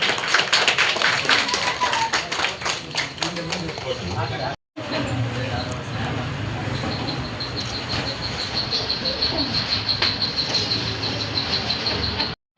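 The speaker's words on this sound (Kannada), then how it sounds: "ಬನ್ನಿ, ಜೋರದ ಚಪ್ಪಾಳೆ" A crowd at a dance class opening claps loudly and rapidly, dense overlapping hands with sharp repeated claps, broken by a brief cut. A voice talks over part of it and a high steady tone sits underneath.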